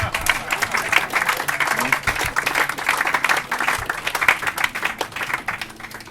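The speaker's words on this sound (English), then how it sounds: "I want you to give a round of applause." A wedding crowd claps steadily, a dense, sustained round of applause with no pause.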